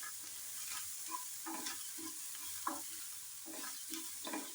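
Onions frying and being stirred in a pan for beef cutlet: a steady sizzle runs throughout, broken by repeated scraping stirs about once a second, close and clear, with no voices.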